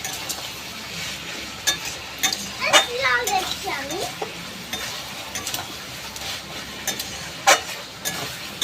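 A spoon stirs ginger, garlic and turmeric powder in a pan for chicken curry, making intermittent scraping and clinking against the metal over a faint background sizzle, with a few sharper knocks.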